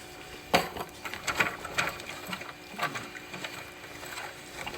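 A VX-1120 sewing machine stuck in reverse runs in short, uneven bursts of mechanical clatter and whirring, fairly close and moderately loud.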